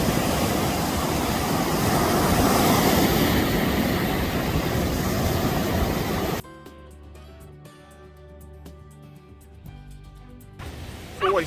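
Sea waves breaking on the beach between East Runton and Cromer on an early morning walk, a loud continuous wash of surf that cuts off abruptly to a quieter, clicking background with faint tonal sounds for the remainder.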